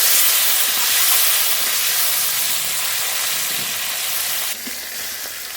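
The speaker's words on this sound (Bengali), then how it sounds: "গ্লাস কাপ মাছ আগে ভেজে নেব" Glass carp fish frying in mustard oil in a hot wok gives a loud, steady, close sizzle and hiss that runs unbroken throughout, easing slightly near the end, with no voices.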